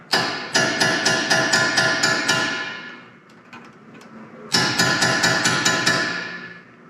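Two quick bursts of sharp, evenly spaced metallic hammer blows, about seven strikes each with a quiet pause between, as a hammer straightens a bolt lock tab on a Roxor axle shaft.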